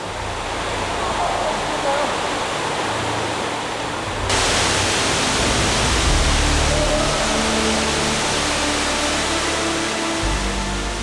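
The Gaucí waterfall, deep in the rock-walled Kavak canyon, roars as a loud, dense, unbroken rush that swells even louder partway through, with no one talking over it.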